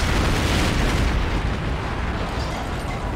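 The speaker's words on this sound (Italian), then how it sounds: "Esplosioni, cose." Explosions in the Metal Gear Solid video game make a dense, loud rumbling blast that booms continuously, then eases slightly toward the end.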